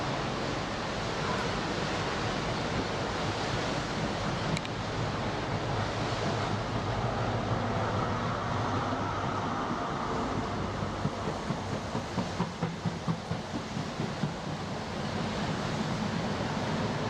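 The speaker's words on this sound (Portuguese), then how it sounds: "ventos de 113 km por hora provocaram ondas de até 9 metros de altura, que lavaram os trens que ainda estavam viajando pela ferrovia" Storm-driven waves up to nine metres high crash over a coastal railway in Devonshire amid winds of 113 km/h, a loud continuous roar of surf and wind with heavier rumbling surges and no voices.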